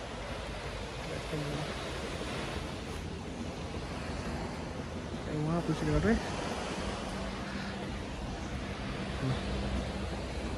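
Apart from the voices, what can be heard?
sea waves at the Tarragona seaside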